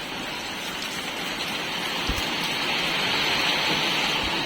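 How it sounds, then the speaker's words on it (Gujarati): Steady rain pattering down, a dense, even hiss with a few heavier drops, continuing throughout with no voices. "હવે વરસાદ તો ચાલુ હતો"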